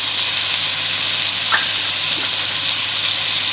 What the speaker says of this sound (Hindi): ये टमाटर डालूंगी, सब्ज़ मिर्च डाल दूंगी।